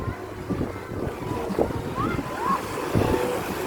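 Sea waves wash steadily at a beach resort under wind. Someone speaks over them and a few brief higher sounds rise through the surf.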